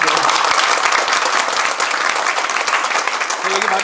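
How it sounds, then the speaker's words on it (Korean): An audience claps loudly and continuously at a pastors' association installation ceremony, a dense, sustained burst of applause close by with a faint voice under it. "박수 한번 주시고요."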